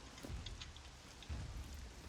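Steady rain falls across a survival game world in SCUM, a dense, even hiss with scattered drop patter and a couple of low rumbling swells, no voices over it.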